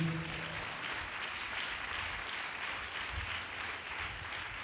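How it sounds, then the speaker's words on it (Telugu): A church congregation claps together in steady, dense applause that fills the whole stretch at an even level, with a brief trace of voice or music at the very start. "చప్పట్లు కొట్టండి గట్టిగా"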